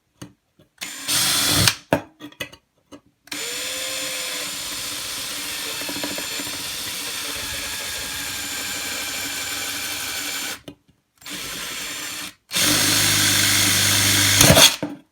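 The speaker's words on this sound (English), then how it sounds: "So let's go ahead and drill that hole." A loud power drill whirs steadily for several seconds, drilling a hole in a smooth surface for a homemade flashlight, stopping and restarting in bursts, with a rising pitch as it bites in.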